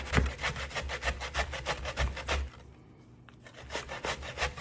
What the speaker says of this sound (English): you just go ahead and you just grate your yuca or your cassava